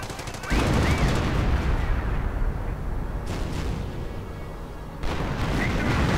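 Artillery fire in a World War II real-time strategy game against German forces: dense, rumbling booms and blasts layered over continuous battle noise, loud and close, with sharp bursts recurring throughout.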